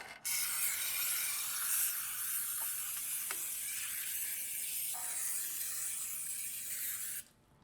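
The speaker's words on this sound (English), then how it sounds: "I'm going to smear the cans, the cake tins, with some butter" Butter is smeared over cake tins with a steady, close scraping rub that runs without a break for several seconds, with a few faint clicks inside it.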